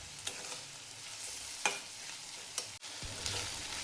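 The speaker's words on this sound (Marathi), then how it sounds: "टोमॅटो कांदा तेलामध्ये भाजलेला आहे" Tomato and onion fry in hot oil in a pan for matki usal, a steady close sizzle broken by a few sharp spatula scrapes while stirring, with no talking.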